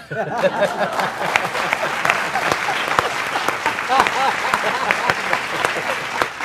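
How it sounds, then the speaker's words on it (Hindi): Audience applause in a studio for a Hindi comedy show featuring a humorous poet, dense steady clapping lasting throughout with occasional louder claps and faint chuckles mixed in. "वैसे बात ये ताली की थी, पर तुम कब बजाओगे?"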